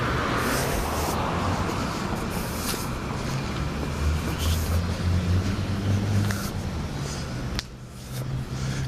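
On a downtown street in Huntsville, a car passes close by amid traffic noise. The engine rumble builds and then fades over several seconds, with no one talking.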